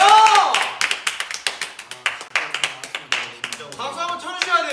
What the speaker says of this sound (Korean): 일단 박수 한번 치고 갑시다